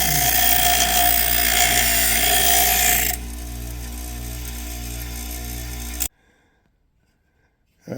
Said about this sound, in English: I have this grinder with a nice abrasive rubber kind of wheel that I use to just kind of clean up the edges a little bit